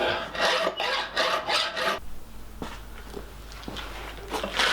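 A hand file rasps across a steel chisel to strip off forge scale, with rhythmic, fairly loud strokes for about two seconds, then fainter scattered scrapes and taps.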